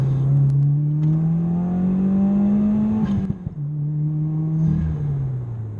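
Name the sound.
Subaru WRX stage 2 accelerating in third gear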